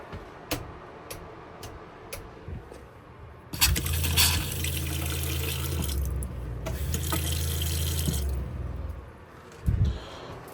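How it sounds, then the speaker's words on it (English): After a few light ticks and clicks, a 1987 Bigfoot camper's water pump hums on and water gushes steadily for several seconds, pausing briefly before surging again. "let's test the water pump"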